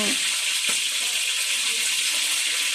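Squid frying in a pan, a steady loud sizzle and crackle filling the whole stretch, with a brief clank near the start.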